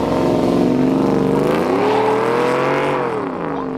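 A Duramax diesel pickup fitted with an S&B intake launches hard with wheel spin, a loud, close engine roar rising and sweeping in pitch for several seconds before easing slightly, with no talking.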